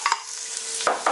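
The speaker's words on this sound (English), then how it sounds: "Those are the black mustard seeds popping." Oil sizzles steadily up close while a few sharp pops and crackles burst out, like seeds popping in a hot pan.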